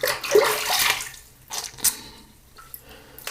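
Water runs and splashes while a razor and face are rinsed after a wet shave with shaving soap, coming in short bursts and drips that fade to quiet between them, with no talking.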